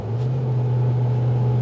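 Loud, steady low exhaust drone from a 2021 Ram TRX Mammoth 900 truck cruising at about 1,500 RPM, a constant deep rumble with no distinct rev rise.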